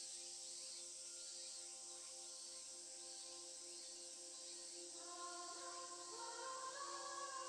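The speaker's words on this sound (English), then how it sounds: "The cicadas screech, screech, screech." Cicadas in the visual novel Tsukihime: A Piece of Blue Glass Moon keep up a faint, continuous high droning buzz, with layered tonal chirring that thickens toward the end.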